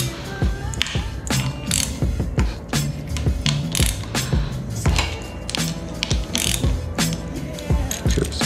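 A ratchet wrench with a 10 mm socket clicks while removing motorcycle clutch bolts, close and loud, in repeated quick bursts of ratcheting separated by short pauses, with occasional metallic taps and no talk.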